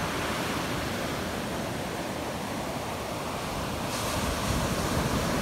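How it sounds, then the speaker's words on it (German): Ocean waves break steadily on the beach at Khao Lak, a continuous loud wash of surf with no pauses, heard alone. "Sind zwar auch gute Wellen, die hier reinkommen"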